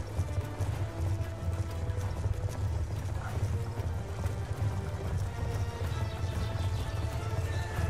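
Steady clip-clop of galloping horse hooves in the video game Black Ops 2, continuous and fairly loud, with a low rumbling bed underneath and no talking.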